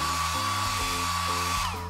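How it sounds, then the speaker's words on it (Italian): A hair dryer blows steadily and loudly up close as it dries hairspray on braided ponytails, its whine shifting pitch slightly a few times. "Spruzza una piccola quantità di lacca sulle code e asciuga con l'asciugacapelli."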